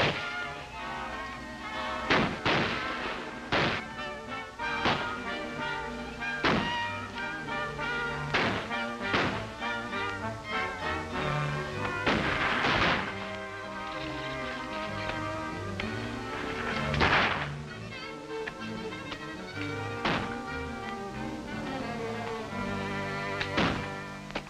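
Gunfire rings out in a 1939 western film shootout. Sharp, irregular shots crack one after another over a steady background of film sound, some of them louder blasts spaced a second or two apart.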